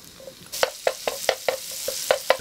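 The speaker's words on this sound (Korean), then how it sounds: "예쁘게 볶이고 있네." Pork liver stir-frying in a pan with garlic, a sizzling base broken by a run of regular, close scraping stirs roughly every quarter second.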